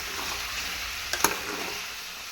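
Chicken roasting in a pan gives a steady, close sizzle of frying with a brief louder crackle near the middle, no voices.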